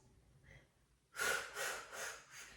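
Steady breathing during a mat workout, with one soft breath followed by four louder, even breaths in a regular rhythm, close and alone.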